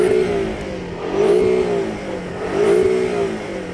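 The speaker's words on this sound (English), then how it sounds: "Go on, rev up the Porsche." Porsche 718 Cayman with a turbocharged four-cylinder engine revved twice, each blip rising and falling in a raspy surge over a steady idle, close and loud, no talk.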